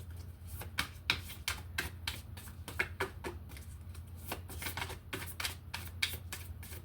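Oracle cards from a Moonology deck being shuffled by hand, a steady run of crisp riffling flutters and slaps close up, repeating in quick bursts over a low hum, with no talking.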